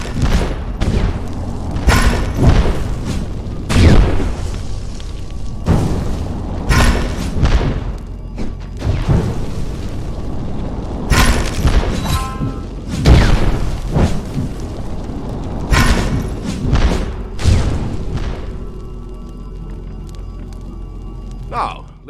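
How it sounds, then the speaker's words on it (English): Fireball spells burst in the VR game The Wizards, with a string of heavy booming explosions and thuds at irregular intervals while a voice talks over them. "Cast Fireball now."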